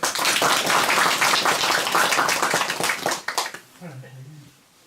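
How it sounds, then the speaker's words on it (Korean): An audience at a village meeting claps together for several seconds, a dense burst of applause that tapers off, followed by a voice speaking at the end. "박수 한번 쳐드리죠"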